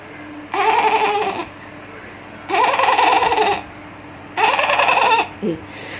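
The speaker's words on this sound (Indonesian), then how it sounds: "dengar ada suara anak kambing" A young goat bleats three times in drawn-out, wavering cries with short pauses between, close and clear.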